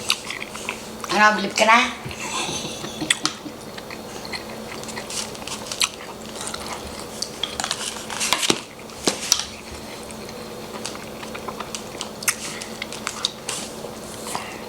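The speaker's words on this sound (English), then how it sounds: "That honeycomb tripe is pretty chewy, but it's one of my favorites." Someone eats honeycomb tripe topped with shrimp paste, with close crunchy bites and chewing amid clinking dishes and cutlery, as a few words are spoken early on.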